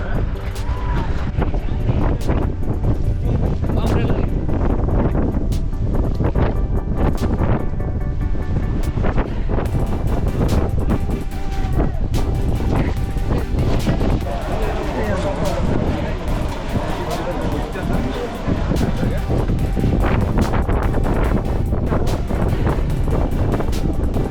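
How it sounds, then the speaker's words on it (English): Strong wind roars and buffets the microphone continuously, a loud rushing gust noise with people talking underneath. "It was so windy that it was so difficult to hold on to our things itself."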